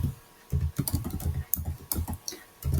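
Rapid typing on a computer keyboard, with close, crisp key clicks in uneven bursts and short pauses, with no voices.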